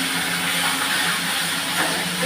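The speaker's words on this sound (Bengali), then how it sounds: "নিয়ে এই যে আমি ভেজে নিচ্ছি, একটা একটা করে পুরো ভেজে নেব।" Pieces of katla fish belly fry in hot oil, giving a steady, close, continuous sizzling hiss that runs unbroken throughout without any talking.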